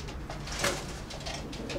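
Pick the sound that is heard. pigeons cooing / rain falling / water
pigeons cooing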